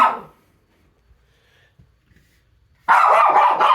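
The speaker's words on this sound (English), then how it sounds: "the dog is agreeing with me" A dog barks indoors inside a house with carpeted rooms, one sharp bark, a quiet pause, then a louder, longer burst of barking close by.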